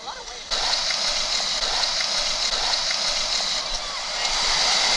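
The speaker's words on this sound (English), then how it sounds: "It's just that there's a lot of waves." Sea waves wash and splash steadily along the rocky coast of Milos, Greece, a continuous near roar of surf that swells slightly toward the end.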